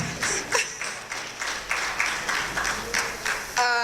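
An audience claps at a Rotaract club installation ceremony in Kampala, a moderate, fairly rhythmic patter of hands in a hall, with no talk over it.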